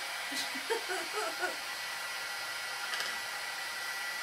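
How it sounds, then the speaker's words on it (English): A small hair dryer drying Dylusions and Distress ink on a craft tag whirs steadily throughout at low volume, with a few brief chuckles and soft voice sounds near the start. "I'm going to turn on a little dryer here."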